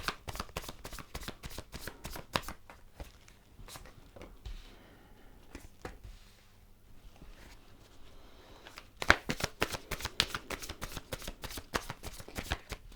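Tarot cards being shuffled by hand: rapid riffling bursts of crisp card flicks, a quieter pause in the middle, then a vigorous second round of shuffling, close and clear with no talking.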